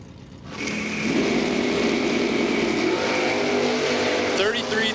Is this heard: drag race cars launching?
yes